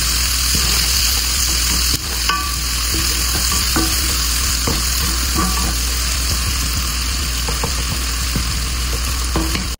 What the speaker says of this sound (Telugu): ఆ టమాటా యాడ్ చేసి అది మగ్గేంత వరకు అయితే ఫ్రై చేసుకోవాలి